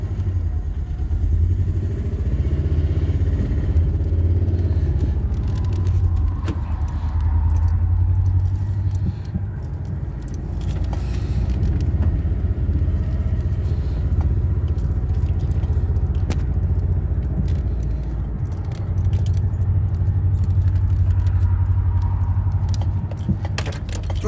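A project car, meant to be someone's first car, runs with a steady, loud low engine rumble that holds throughout, with a light metallic jangle over it and no talking.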